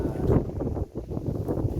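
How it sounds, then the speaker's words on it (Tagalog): Blustery wind at a bus station in Loyev, Belarus buffets the microphone in low, rumbling gusts, steady and close, briefly easing before surging again. "Sobrang malakas ng hangin dito."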